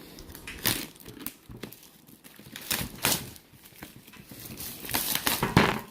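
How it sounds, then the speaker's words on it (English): Board game box packaging for Dungeon Saga: The Dwarf King's Quest is torn open in close, irregular bursts of crinkling and ripping of plastic wrap and cardboard, alone without speech. "Let's rip this thing open."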